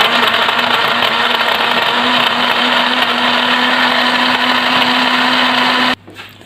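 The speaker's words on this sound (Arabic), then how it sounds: "وهنبتدي دلوقتي بسم الله نشغل الخلاط." A kitchen blender runs continuously, blending milk with dates into a quick Ramadan drink, a loud steady whirring drone with a constant motor hum that cuts off abruptly near the end.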